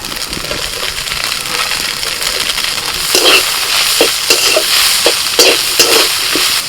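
Boiled fish being stirred in a hot pan with chopped chili and onion for momo filling, a steady close sizzle broken by repeated scraping, clicking stirs.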